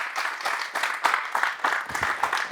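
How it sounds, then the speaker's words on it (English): An audience applauding steadily, dense clapping from many hands filling the whole stretch, fairly loud and close. "Let's give him a round of applause."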